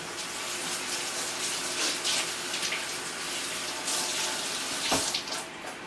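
Tap water runs steadily into a kitchen sink while garlic is washed under it, a continuous close splashing gush with brief shifts as the cloves move through the stream.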